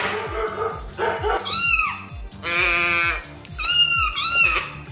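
A toy sound box gives out a looping electronic meow, several drawn-out cat cries one after another, mixed with leftover barking from the same box, loud and close with no speech.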